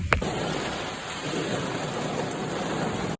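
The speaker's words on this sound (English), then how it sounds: "The rain that's just started falling here." Fresh rain begins pattering down in a steady hiss, with a rumble of thunder near the start; no voices.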